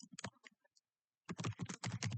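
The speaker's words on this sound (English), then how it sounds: "the reason I'm typing this" Keys tapped on a computer keyboard while working through a web hacking capture-the-flag challenge: a few scattered clicks, a short pause, then a dense, fairly loud burst of rapid typing.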